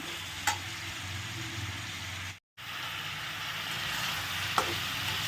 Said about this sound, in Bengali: এটাকে ভালো করে একটু আরেকটু চিনি আর নুনটা গলে একটু ভাজা ভাজা করে নিই